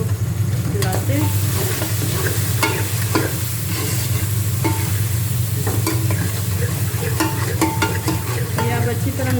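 Masala with turmeric and salt being mixed and fried in a pan for keema karahi: a loud, constant sizzle runs throughout, broken by frequent close scrapes and clicks of a spoon working the mixture.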